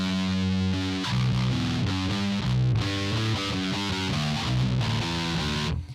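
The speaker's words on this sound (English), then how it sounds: "I'm sure there is a time and place for distortion on bass, but I just don't like how it sounds." Bass guitar runs through heavy distortion, playing a thick, buzzing line of sustained and shifting notes that continues steadily before cutting off at the end.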